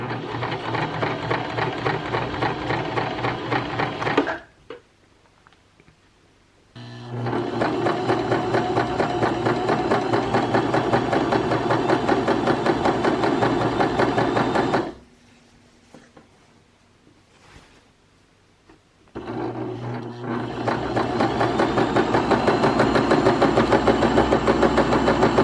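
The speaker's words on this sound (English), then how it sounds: "we're just going to run this same length of stitch nice and straight all the way down to the other end of the hammock" Sewing machine running a long straight seam down a ripstop backpacking hammock with a rolled hem, a steady close mechanical whir in long continuous bursts, stopping twice for a few seconds before resuming.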